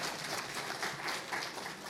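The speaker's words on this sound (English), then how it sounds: "So give yourselves a round of applause for that." Applause from a conference panel audience at a National Archives event, a steady wash of many hands clapping that holds evenly through the short stretch, moderately loud and distant, with no talking over it.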